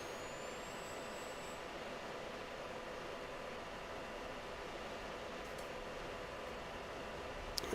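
A jet engine on a rolling takeoff in a flight simulator game, at dry thrust without afterburner: a constant, loud, hissing roar that holds steady with no talk over it.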